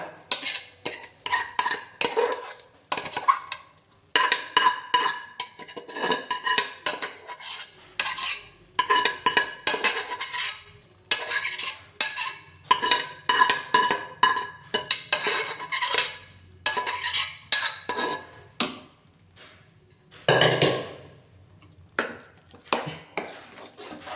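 Mashed vegetables being stirred into pav bhaji in a pan, with repeated scraping and clattering of a spoon against metal in uneven bursts, close and fairly quiet.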